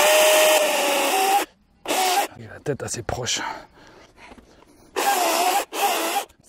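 A DeWALT FLEXVOLT cordless chainsaw cutting wood in loud bursts, three separate runs of steady high whine, with someone talking close by between the cuts.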